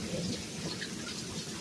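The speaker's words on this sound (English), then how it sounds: "Lightning storms down here scare the shit out of me." Steady rain falling in a thunderstorm with a low rumble of thunder, heard close and continuous, without any voices.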